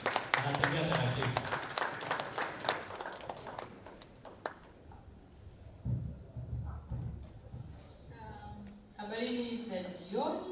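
An audience at a public banking and finance forum claps as a professor walks up, with dense applause at first that thins and fades, and a voice speaking over the room.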